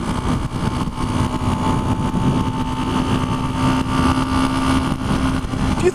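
Loud, continuous engine drone from a 1976 Honda CB125S motorcycle while riding on the road, a steady mid-range hum with a sustained tonal whine and wind noise throughout.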